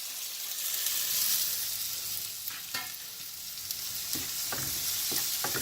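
Tomatoes frying in a pan for a vegetable omelet: an even, bright sizzle holds steady at moderate level, punctuated by a few sharp stirring taps and scrapes.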